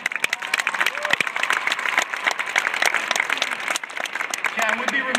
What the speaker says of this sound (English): Just give him a nice round of applause again.